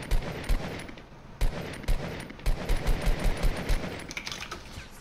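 Sharp gunfire from a video game, single loud shots then a fast run of evenly spaced blasts, close and dominant with no talking.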